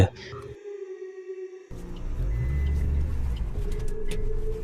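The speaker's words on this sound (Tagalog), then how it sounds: "Dito ay pinatras na rin nila ang sasakyan." A car reverses with a loud low engine rumble building up after a droning tone cuts off, close by and steady, with no clear talking.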